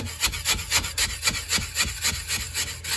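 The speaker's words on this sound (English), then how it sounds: "we have our bucket of oil and sand here. You just take that and clean off that end." A garden tool end is worked back and forth in a bucket of oil and sand, giving a steady, rhythmic gritty scraping about every quarter second. The sound is close and loud, with no voices.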